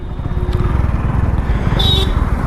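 A motorcycle crawls slowly through traffic on half clutch, its engine putting out a steady, close, low chugging putter with a brief higher whine midway and no voices over it.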